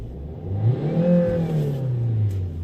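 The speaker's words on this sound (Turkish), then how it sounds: "Araba çok hızlı gidiyor." A car accelerates fast, the engine note climbing and swelling as it revs up, then sustaining a whirring drone near the listener.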